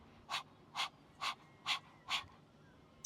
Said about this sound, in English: you may also think of it like you're panting like a dog.